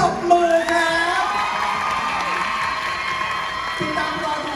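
An event audience claps and cheers loudly, with whoops and high excited shouts over a steady bed of applause and crowd noise, some voices rising above the rest.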